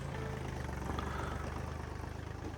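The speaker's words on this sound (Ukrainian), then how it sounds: "Трактор хоть маленький, але досить чудово виконує свою роботу." A small tractor engine runs at a steady idle, a low, even rumble with faint vibration that stays quiet and constant throughout.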